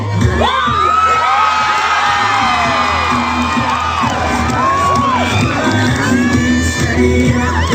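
A large festival crowd at Panagbenga Festival shouts, whoops and cheers loudly and continuously, with excited voices rising and falling in a dense, close roar.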